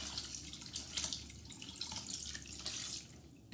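Drained boiled grass jelly is rinsed with drinking water, a steady close splashing and trickling stream with faint drips throughout and no talking.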